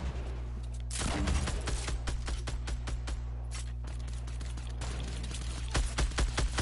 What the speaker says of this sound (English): I have a grenade launcher for a reason